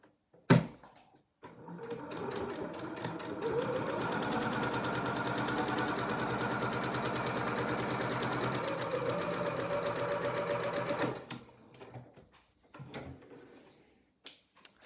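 Sewing machine stitching a fabric mat, starting after a couple of handling clunks and running as one steady whirring burst for about nine seconds before stopping, followed by faint handling knocks.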